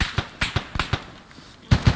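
Gunfire in Arma 3 Unsung, a Vietnam War setting: a string of sharp close shots at an uneven pace, then a heavier quick burst at the end.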